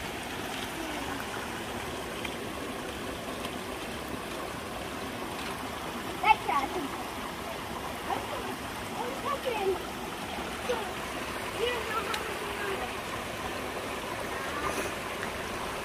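Steady rush of flowing stream water on the Appalachian Trail throughout, with occasional splashes and brief voices over it.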